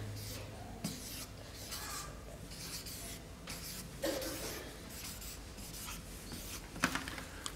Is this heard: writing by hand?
yes